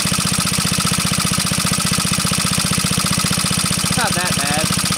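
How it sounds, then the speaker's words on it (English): An antique ONAN PE-88 Signal Corps power unit engine runs steadily under load, its valves clacking in a fast, even rhythm close by, with a brief higher chirp near the end. "You can hear the clickety clack of those valves."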